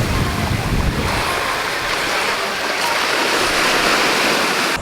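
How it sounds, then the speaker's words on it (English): Surf breaking steadily on the shore at Basseterre, St. Kitts, a loud continuous wash of waves with wind rushing across the microphone, nothing else standing out. "It's so quiet except for the waves crashing"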